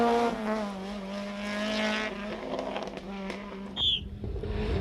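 Stretched two-wheel-drive Formula 2 rally car on a damp stage, engine droning steadily at high revs with shifting pitch as it passes, a brief sharp squeal near the end, fairly loud and close with no talk.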